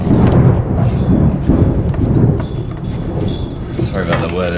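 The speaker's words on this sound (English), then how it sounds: "Sorry about the weather, there's a storm coming." Thunder rumbles from an approaching storm outdoors near a jon boat, with a loud, continuous low roll and gusty wind noise throughout.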